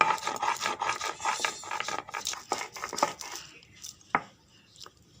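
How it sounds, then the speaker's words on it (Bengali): Melon seeds ground by hand on a stone grinding slab, giving repeated scraping, rubbing strokes up close that fade toward the end, with a few sharper knocks. "এবার মগজদানাটা মশলার জন্য আমি বেটে নিচ্ছি"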